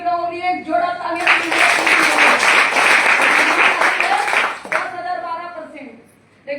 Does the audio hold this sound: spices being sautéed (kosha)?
no